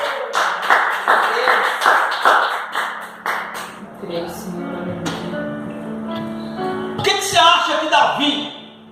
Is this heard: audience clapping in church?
yes